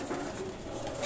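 A soft, low pigeon coo hums steadily in the background for a moment, faint and close, with no voices.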